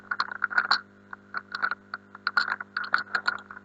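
Fast, uneven keystrokes clatter on a computer keyboard during Minecraft play, close and clear, in quick bursts with a low steady hum underneath.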